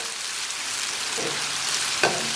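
Minced pork stir-fries in a hot oiled wok with scallion, ginger and garlic, a loud continuous sizzle with a couple of brief scraping stirs near the end.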